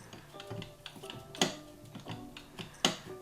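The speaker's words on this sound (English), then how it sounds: "You can hear the contacts going off" The timer contacts of a faulty ultrasonic cleaner click quietly and irregularly, with two sharper clicks standing out against faint background noise.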